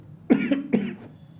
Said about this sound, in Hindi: सॉरी, खांसी ठीक नहीं हो रही।